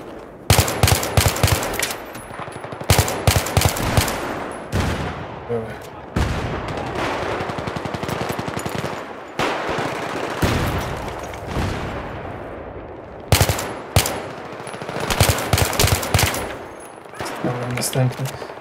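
Machine-gun fire in the Battlefield 3 shooter game, several loud rapid bursts separated by quieter gaps of ambient battle noise, with a voice talking in between.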